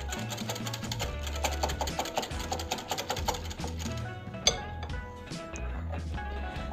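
A spoon mixes yogurt and mayonnaise in a bowl with quick, rhythmic clinking strokes close by, slowing toward the end with a sharper knock.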